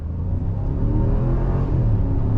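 A 2022 Jeep Wagoneer's 5.7-liter V8 with eTorque pulls away from a dead stop. A deep, even rumble rises smoothly and close up, with no voices.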